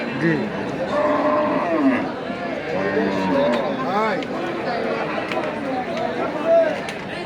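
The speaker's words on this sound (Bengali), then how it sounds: "সুন্দর একটা গরু।" Cattle moo repeatedly at a crowded livestock market, bulls for sale, with deep calls rising over a steady murmur of buyers and sellers talking nearby.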